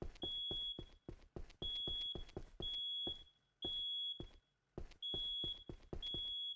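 In the Into the Flames firefighting video game, a smoke alarm gives about seven high, piercing beeps in an uneven rhythm, with dull thumps and knocks between them.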